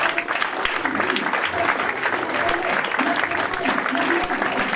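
A church congregation claps in praise, a dense, steady burst of applause filling the room, with voices faintly mixed into the crowd noise.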